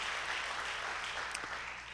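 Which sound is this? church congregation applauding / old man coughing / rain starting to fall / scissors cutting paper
church congregation applauding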